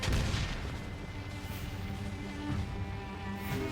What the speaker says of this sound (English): So hit it with a grenade here.